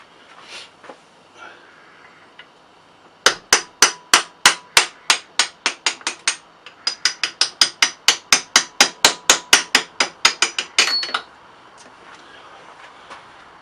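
A hammer drives an old bolt used as a punch through a 1987 CR 250 motorcycle part, sounding as a fast run of about thirty sharp metallic taps in two bursts, loud and close, after a few scattered knocks.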